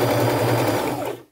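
Sewing machine stitching forward and back to lock a stitch on a lace tunic, a loud steady close motor whir with rapid needle chatter that slows briefly and then stops.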